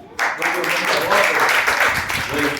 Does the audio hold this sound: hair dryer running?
no